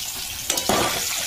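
Fish sizzles loudly as it fries until red in a pan of hot oil in a Bengali home kitchen, with a steady hiss and a brief surge of crackle midway.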